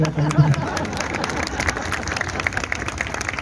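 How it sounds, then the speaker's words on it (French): Audience applause at a live French stage show, a dense wash of many hands clapping at once under crowd noise and a brief vocal sound, staying steady and fairly loud throughout. "si vous voulez applaudir, vous pouvez"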